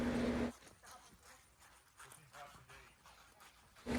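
A Mustang's hooves during a trot, with quiet, rhythmic footfalls under a low rumble of background noise, bracketed by brief louder sounds at the start and end.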